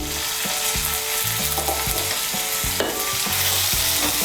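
Ginger, garlic and green chili paste fries in a pan for a potato curry: a bright, constant sizzle close by, broken by rhythmic scraping strokes of a spatula stirring the paste.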